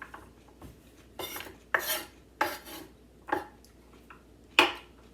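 A knife chops through raw carrot for soup, landing about five crisp, separate cuts at an uneven pace, close and fairly loud with no talking.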